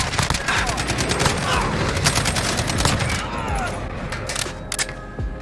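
FN SCAR 17 firing tracer rounds in the video game Modern Warfare, loud rapid fusillades of crisp gunshots in dense bursts, tapering to scattered single shots near the end.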